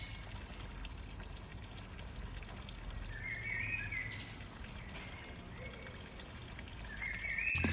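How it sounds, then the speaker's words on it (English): A water fountain in Lausanne with pigeons bathing in it, a steady pour and splash of running water with a few faint bird chirps over it, no talking. "We parked our van next to a fountain, and I couldn't help but notice how it became a little spot for different living beings."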